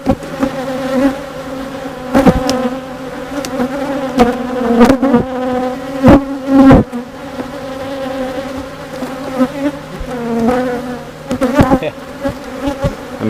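Honeybees buzz steadily around an open beehive whose box is packed with nectar being capped, a dense continuous hum close by with passing louder swells as individual bees fly near.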